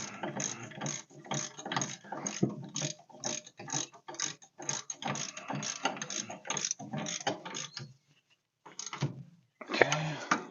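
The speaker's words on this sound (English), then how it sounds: "We're going to tighten up our upper ball joint." Repeated ratcheting clicks from a 7/8 wrench tightening the upper ball joint on a Mopar front suspension during a disc brake conversion, close and steady in quick bursts, with a short pause before a final louder flurry.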